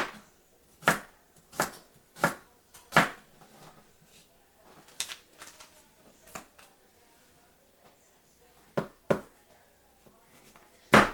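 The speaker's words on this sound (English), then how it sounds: "And then you just slice them." Sweet potatoes sliced with a ridged Santoku knife on a board, sharp close chops in bursts with pauses between, loud and without voices.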